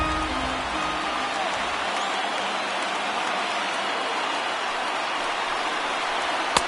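A large baseball stadium crowd of over 39,000 in a video game simulation, a steady, dense roar of cheering and applause that holds at an even level throughout with no clear talk over it.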